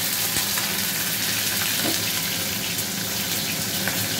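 Cubes of paneer frying briefly in a pan, giving a steady, dense hiss of oil that stays even and close throughout, with a faint tick or two and no voices.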